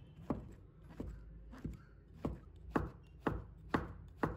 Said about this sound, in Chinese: 再把它切片， 再改刀切成条